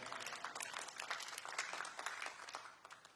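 Congregation clapping hands in praise during a church service, a dense, steady patter of many hands sustained throughout at moderate distance with no speech.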